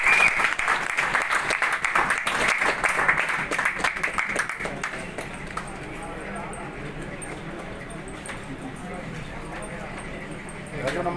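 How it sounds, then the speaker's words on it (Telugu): Audience applause breaks out at a birthday celebration stage event, dense loud clapping for about five seconds that then thins into a quieter crowd murmur, with a burst of clapping returning at the end. "చాలా గట్టిగా పట్టాలి క్లాప్స్ మరి."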